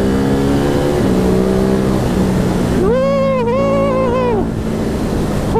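A Ducati Hypermotard 950 SP being ridden on the road, its engine note rising and falling in a loud revving sweep under steady wind rush.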